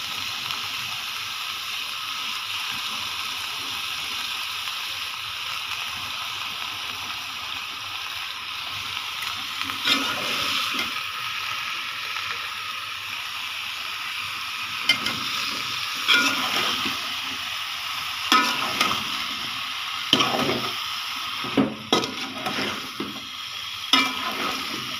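Long beans, prawns and a small potato fry with spices in a pan: a continuous close sizzle runs throughout, joined in the second half by repeated scraping stirs and soft splattering bursts.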